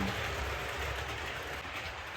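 A model railway train rolls into a platform from the unusual direction, a steady rumbling run with faint rail clatter, continuous and fairly close, no voices.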